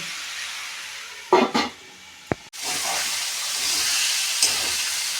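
Chicken curry pieces are stirred in a pan as they cook down in oil and release their juices. A few spoon scrapes come over a continuous hiss and sizzle, with no voices.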